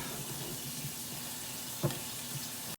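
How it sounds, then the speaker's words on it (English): Water runs into simmering lasagna sauce with a soft, steady hiss and a brief splash partway through, heard close and alone. "we added a little bit more water because you don't want it too thick"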